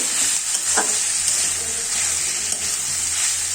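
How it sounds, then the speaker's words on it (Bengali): Tomato frying in oil with already-fried potato, onion and ginger-garlic paste, a steady close sizzle with a brief stirring scrape near the start. "তেল দিয়ে আলু ভেজে নিয়েছি, তারপর পেঁয়াজ দিলাম, আদা রসুন বাটা দিলাম। এবার টমেটো দেবো।"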